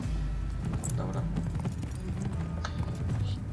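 A horse in the video game Neverwinter moves at a steady walk, its hooves clip-clopping in a regular rhythm over a low continuous game ambience, with no talk.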